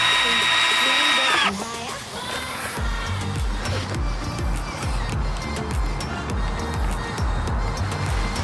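Power drill driving screws into the frame of a Rubbermaid Big Max 7x7 shed, with a high whine at the start and then repeated bursts of driving amid thumps and handling noise.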